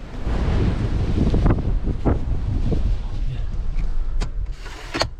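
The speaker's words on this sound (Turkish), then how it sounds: "Şurada baksana abi rüzgara ya" Strong storm wind roars and buffets the microphone at a caravan in a steady rumble, with a few sharp gusts and knocks breaking through near the end.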